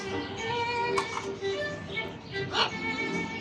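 A dog named Rio or Holly at Mediterraneo Marine Park in Malta lets out short yips and whimpers beneath a person talking, with shrill tonal sounds running through the scene.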